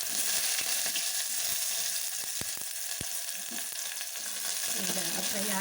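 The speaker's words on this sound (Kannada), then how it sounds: "ಈಗ ಫ್ರೈ ಆಗಿ ಒಂದು ಗೋಲ್ಡನ್ ಕಲರ್ ಬರೋವರೆಗೂ ಈರುಳ್ಳಿ ಹಾಗೆ ಫ್ರೈ ಆಗ್ತಾಯಿದೆ" Chopped onion and cumin frying in oil in a pan for masala puri, a steady close hiss of sizzling with scattered sharp clicks of stirring throughout, no voices.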